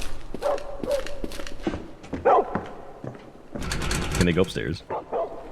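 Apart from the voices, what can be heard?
dogs barking in video game Project Silverfish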